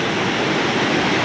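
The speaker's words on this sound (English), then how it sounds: "this might be the most powerful I've ever seen this waterfall" Cascade Falls in Mill Valley pouring hard in the rain, a loud, steady, dense rush of falling water filling the whole stretch without pause.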